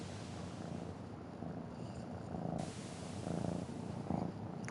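Steady, low rumbling purr of a cat in a video game beach scene, continuous and fairly quiet, with soft waves and breeze in the background.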